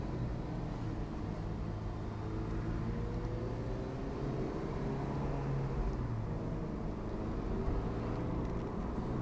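A car pulls out of the pit lane onto the hot track at Lime Rock Park during a track day, its engine droning steadily and loudly from inside the cabin the whole time.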